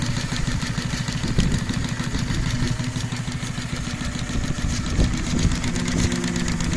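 A Case model steam tractor engine running steadily, with a rapid even chuffing and mechanical beat that holds close and loud throughout, with no voices.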